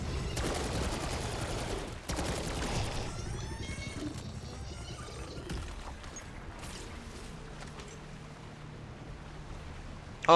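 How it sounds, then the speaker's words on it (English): Assault rifle fire in Black Ops 6 Zombies on the Tomb map, heavy bursts of shots packed densely in the opening seconds, then thinning into scattered shots amid game noise and effects. "Taking way too many shots with my AR now."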